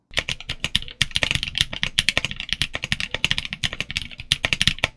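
Rapid mechanical keyboard typing, dense clacky keystrokes in an uneven rhythm, close and fairly loud with no voices.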